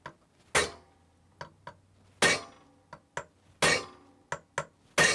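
A hammer strikes the side of a KitchenAid Special Edition stand mixer: loud, ringing metallic bangs at uneven intervals, separated by lighter taps and clinks, close and distinct with no talk.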